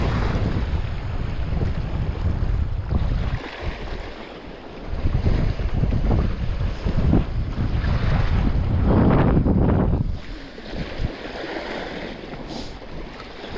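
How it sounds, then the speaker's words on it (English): Strong coastal wind at Roundham buffets the microphone in loud, gusty roars, rising and easing over a continuous rush of surf and open-water noise. "This wind's definitely getting up there"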